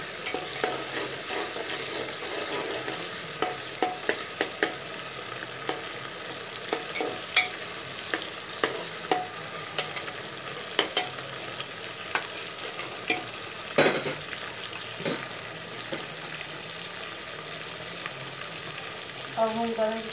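Tomatoes soften as they fry with browned onion for a mutton curry. A continuous sizzle runs under repeated scraping and clacking as a spoon stirs the pan at an irregular rhythm, and nobody talks.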